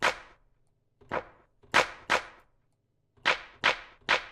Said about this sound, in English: Now let's take that, which is a standard clap, and destroy it a touch.